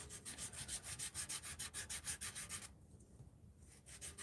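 Wood being sanded on a lathe with bushings, a rhythmic rubbing swish repeating about four times a second, close and steady, then briefly softer before the rubbing resumes.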